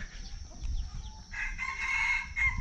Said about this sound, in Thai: ไม่รู้ว่าไก่อะไรนะ ไก่ป่าหรือเปล่า